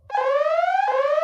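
An electronic alarm sounds in a studio setting, a loud, piercing tone sliding slowly upward, restarting once partway through, close and with no talk over it.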